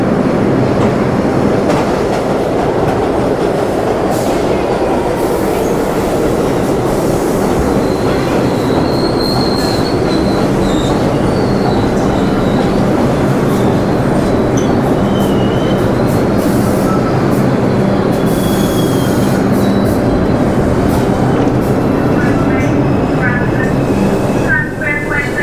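A New York City subway train, an uptown Number 1 bound for Van Cortlandt, pulls into a station with a loud, continuous rumble of wheels on rails, high metallic squeals and clatter, and faint voices in the background.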